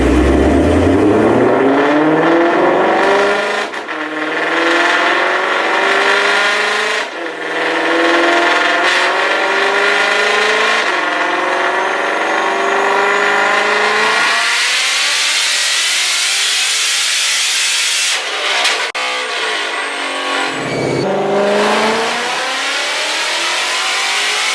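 An 1100-horsepower Shelby GT500 on its stock engine revs repeatedly up to 8800 RPM, loud and close, its pitch climbing in stepped surges before a long screaming pull and a quick drop and re-rev.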